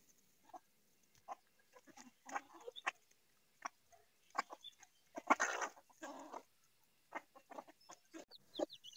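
Hen with a brood of chicks on a mud-house farm, soft clucks and high peeps scattered irregularly throughout, quiet and fairly close, with no talk.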